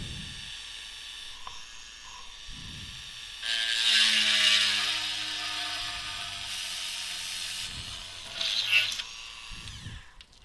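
A Proxxon rotary tool bores pilot holes in plastic on a benchtop power supply rebuild, its whine rising abruptly and holding before dipping, with light handling clicks before and after.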